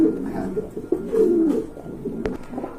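Pigeons at a market coo in low, throaty, repeated calls, close by, with a brief sharp knock partway through and no talk.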